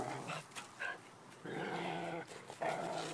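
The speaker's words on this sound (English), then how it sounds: "Stupid dog interrupted this. Man, the dude's growling a lot." A dog growls and grumbles indoors in short, uneven bursts with small whimpering yips between them, fairly close and moderately loud, with no talking.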